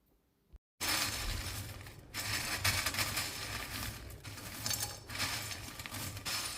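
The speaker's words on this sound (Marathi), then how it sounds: "आता हे फक्त चुरून घ्यायचं अगदी बारीक चुरा नाही करायचं" Fried chivda ingredients crushed lightly by hand in a kitchen, giving a steady, loud crackling crunch that runs continuously for several seconds after a brief pause, with short dips in between.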